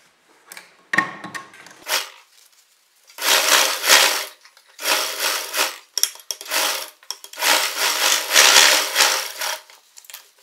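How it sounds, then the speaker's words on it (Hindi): A sewing machine stitches along the edge of an Anarkali kurti in several separate whirring bursts of one to two seconds each, close and fairly loud, with short pauses between them. "तो हम इस तरफ से सिलाई लगाना स्टार्ट करेंगे।"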